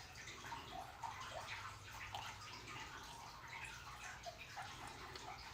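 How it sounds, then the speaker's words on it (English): A small amount of water trickles and splashes into a jar of sourdough starter sitting on a kitchen scale, a soft, faint, continuous pour heard close with no talking. "Now we're gonna do 11 grams of water."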